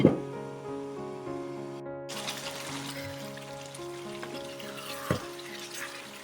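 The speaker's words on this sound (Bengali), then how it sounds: "ভালো করে কষানো হয়ে গিয়েছে, একদম সুন্দর করে কষানো হয়েছে, দেখেছেন একদম তেল তেল মতো উঠে এসছে।" Duck meat frying in oil in a pan sizzles steadily and fairly quietly, with a brief stirring clatter at the start and another near the end.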